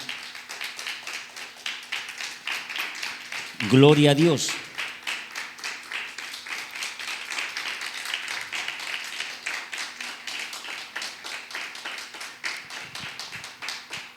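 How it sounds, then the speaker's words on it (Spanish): Congregation applause in a church service, rapid steady clapping running throughout, with a brief spoken exclamation near the start. "Dele un fuerte aplauso a Dios por su palabra."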